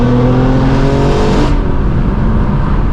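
A straight-piped BMW M4 G82 blares its loud exhaust up close, a harsh revving drone with strong harmonic tones that climbs and then cuts back as the revs drop, raw and overwhelming with no talk over it.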